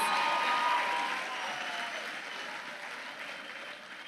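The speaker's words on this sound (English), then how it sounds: "Let's give our fantastic 23 Alpha Drill Squad a resounding round of applause." A ceremony audience applauds the 23 Alpha Drill Squad with a broad, loud wash of clapping that slowly tapers and softens over about four seconds.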